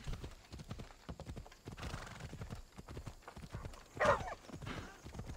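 Horse in the video game Assassin's Creed Odyssey: rapid galloping hoofbeats pound steadily throughout, broken by one loud whinnying neigh partway through, with game sounds underneath.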